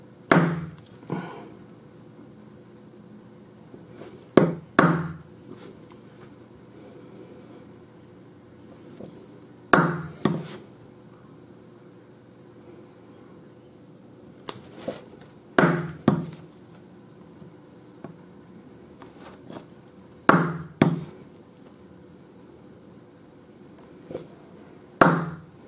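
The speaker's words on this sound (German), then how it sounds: "der Körner. Und mit dem markiere ich jetzt die Mittelpunkte der Bohrteile." A metal center punch struck with a hammer to mark drill points on a workpiece, sharp single and double taps spaced a few seconds apart over a quiet background.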